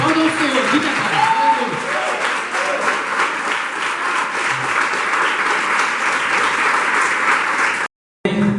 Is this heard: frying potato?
no